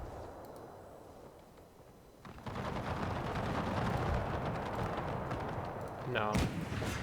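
KGL infantry opening fire in the Napoleonic Chapters video game: a quiet battlefield murmur swells into a dense, continuous crackle of musket volleys and rumble, with a voice briefly heard near the end.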